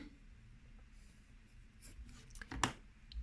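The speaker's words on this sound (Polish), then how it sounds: "Rysujemy sobie ołówkiem trójkąt, e, prostokąt w tych wymiarach" Pencil on paper drawing a rectangle, a quiet close scratching that is intermittent and faint, with a couple of brief stronger strokes near the end.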